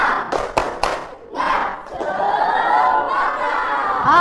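A class of students does a spirit clap: a few sharp, separate claps open it, then the group breaks into loud shouting and crowd noise that carries to the end.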